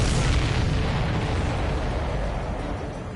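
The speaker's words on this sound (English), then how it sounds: "Did you see that explosion? Looks like that's one of them down." An enemy supply ship explodes in Ace Combat 7, a loud broad boom that rumbles and slowly decays over about three seconds with no talk.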